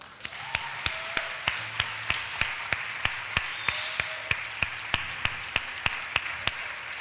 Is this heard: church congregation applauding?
yes